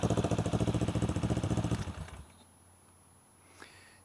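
A 1984 Suzuki GR650 motorcycle engine, warmed up, idles close by with a loud, even thumping pulse for about two seconds before shutting off into near silence.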